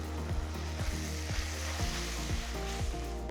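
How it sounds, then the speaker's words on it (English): Ginger garlic paste and curry leaves sizzle and fry steadily in a hot pan with onions, with quiet stirring scrapes at a regular rhythm. "At this time, add 2 teaspoons of ginger garlic paste and a few curry leaves."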